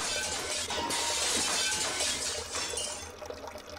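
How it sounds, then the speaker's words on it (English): Glass tanks crack and shatter in a video game, a loud, sustained burst of breaking glass with tinkling fragments that gradually thins out toward the end. "I hear the high-pitched noise of glass cracking"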